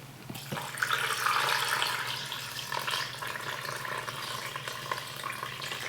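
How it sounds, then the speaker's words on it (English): Water runs steadily from a tap or jug into a pressure cooker pot holding turkey pieces, a continuous close splashing pour with no talk. "we're going to go in with a little water"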